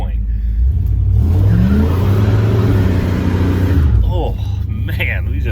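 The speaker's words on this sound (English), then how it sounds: "we just roasted some tires right there" A truck engine revving hard under full acceleration, with a loud rising drone that climbs through the gears and tires spinning, close and continuous before easing off near the end.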